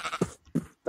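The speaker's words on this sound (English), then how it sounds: "We need to kill our sheep first." A sheep in a survival video game gives two short, nasal bleats close by, with a brief gap between them. A third bleat starts right at the end.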